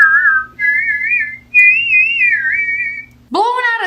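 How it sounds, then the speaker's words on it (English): Close, steady whistling with wavering, sliding pitch in several long phrases, whistled from both sides of the mouth at once, ending in a brighter, higher whistle that rises and falls. "Whistling in stereo surround sound."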